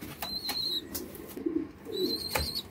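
Young squeaker pigeons being placed into a shipping box, giving soft coos and squeaks amid brief wing flaps and light handling noise, close and fairly quiet.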